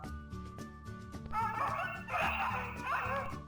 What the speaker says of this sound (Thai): อันแรกนะครับผมจะดาวน์โหลดเสียง สุนัขไปนะครับ